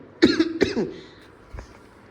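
A sick person coughs two sharp, close bursts in quick succession, followed by a fainter single cough after a short pause.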